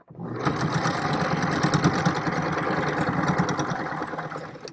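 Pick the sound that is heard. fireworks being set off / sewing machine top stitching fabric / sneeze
sewing machine top stitching fabric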